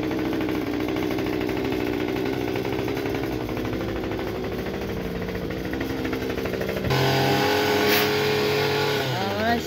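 Small backyard lawn mower engine running steadily near the listener, a rough continuous drone that grows louder and harsher in the last few seconds, with voices speaking over it.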